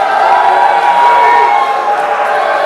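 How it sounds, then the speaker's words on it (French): Crowd at a local wrestling show cheering tag-team champions, a loud continuous roar of shouting and whooping filling the whole moment. "La foule les acclame comme si c'était des vedettes internationales"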